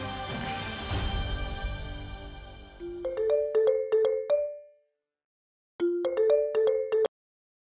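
A phone rings with a melodic electronic tone, repeating in two bursts of rising notes, loud and close, after a stretch of background music fades out.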